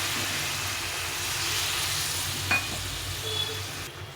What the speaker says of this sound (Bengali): এখন আমি এর মধ্যে একটু গরম জল দিয়ে ফুটিয়ে নেব